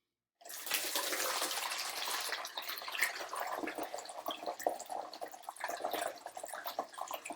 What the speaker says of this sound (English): we're going to fill this bottle about 1/8 full of this white vinegar